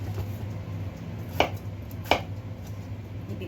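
A knife cuts potatoes with the skin on into wedges, making two sharp thuds on a board about a second apart over low background hum.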